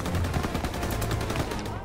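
MG42 machine gun fire in the Call of Duty WW2 video game, a dense continuous burst of rapid shots lasting the whole stretch, loud and close with no pauses.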